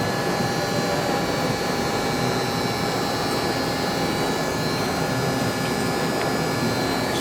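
The spindle of a Mori Seiki MV653-50 vertical machining center runs steadily at 2,500 RPM, giving a constant, even whir with a broad hiss and faint high tonal lines and no change across the stretch.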